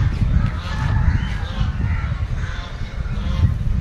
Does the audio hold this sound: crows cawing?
yes